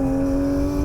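A Porsche 911 GT3 engine pulls hard under power on a race track, a loud, steady, close-up drone with strong sustained tones and no voices over it.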